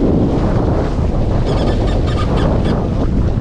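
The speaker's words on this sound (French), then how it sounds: "12 nœuds de vent constant, les rafales à 14." Loud, constant wind of 12 knots gusting to 14 buffeting the microphone on a sailboat under genoa off Sète, a heavy rushing roar with a faint wash of water underneath and no voices.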